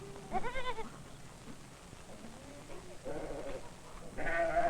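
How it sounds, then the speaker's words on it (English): Goats on a farm bleat several times in short wavering calls, close and fairly loud, with quieter farm ambience between the cries. "and the geese and the goats were making funny noises out of their throats"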